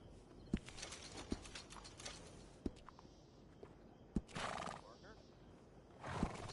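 In the video game Red Dead Redemption 2, a horse whinnies loudly twice amid sharp, scattered hoof clops, with a faint babble of voices underneath.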